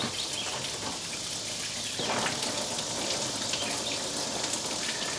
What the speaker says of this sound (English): Oh, there's water going down.